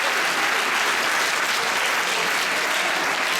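An audience at a theatre post-show talk applauds its lighting technician, a dense, steady wash of many hands clapping that stays loud and even throughout.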